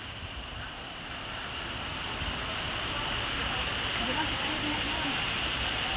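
A waterfall roars as a steady, broad, hissing rush with no break, fairly close and loud.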